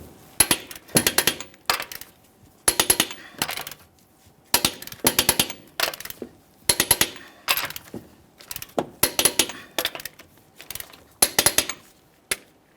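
Impact wrench or ratchet snugging and torquing the locking hub actuator bolts on a 2015-2020 Ford F-150 in a crisscross pattern, heard as repeated short bursts of rattling mechanical clatter with brief pauses between each bolt.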